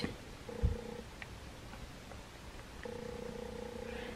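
A pet cat purrs softly and close by in a quiet room, the low rumbling coming in two stretches with a small bump between them.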